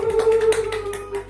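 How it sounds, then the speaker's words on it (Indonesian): Students in a classroom clapping for a classmate, a short burst of a few scattered hand claps close by, fading quickly. "Tepuk tangan buat Arifin."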